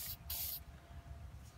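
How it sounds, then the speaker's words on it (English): Lubricant sprayed from an aerosol can into the ball bearings of a removed Bugaboo Buffalo stroller wheel, heard as a short close hiss burst lasting about half a second, with a faint low background rumble. "So you'll want to spray in from the side"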